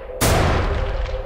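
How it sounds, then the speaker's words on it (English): A sudden loud layered gunshot sound effect cracks after a brief silence, followed by a long, rumbling echo that slowly fades. "two gunshots there."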